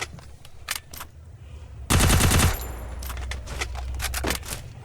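A burst of rapid automatic gunfire from a shooting video game rips out, a dense rattling volley lasting under a second amid scattered clicks and fainter shots.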